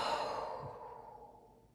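A single soft exhaled breath during a yoga flow, close and quiet, fading out over about two seconds.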